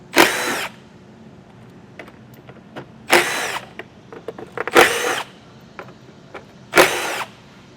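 A power drill fitted with a T40 Torx bit backs out bolts from a 2023 Jeep's front fascia trim, sounding four short, loud whirring bursts evenly spaced, with small clicks and handling noises between them.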